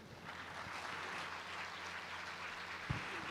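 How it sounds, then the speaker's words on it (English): An audience at a graduation ceremony applauds in a steady, dense wash of clapping that holds evenly throughout, with no one speaking. "let us come together in a resounding round of applause to celebrate the remarkable achievement of our"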